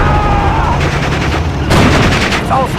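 Battlefield gunfire in the World War II strategy game Steel Division Normandy, with loud, close bursts of rapid shots and cracks in quick succession, mixed with scattered radio-style voices.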